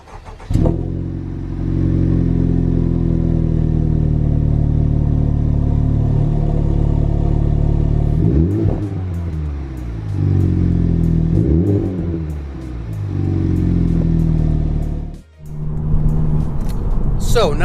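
A Honda Civic Type R with a muffler delete, its engine close and loud, droning steadily, then revving up through several gear changes with dips between pulls.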